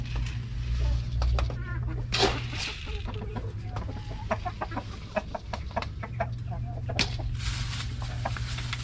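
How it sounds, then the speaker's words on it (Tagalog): Rhode Island Red chickens cluck and squawk in a busy flock while being fed hanging cabbage, with repeated short calls over a steady low hum and occasional voices nearby. "pakain tayo ng manok dito"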